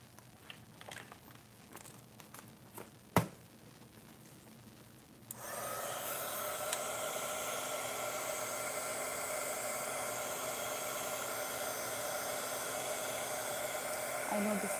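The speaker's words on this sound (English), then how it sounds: "let's add some color on these stones, and for that I'll use my heat gun and dry it." A heat gun dries paint on stones set into a craft tray, starting after a few quiet seconds with a sharp knock, then a steady, loud, close blowing hiss that runs unbroken to the end.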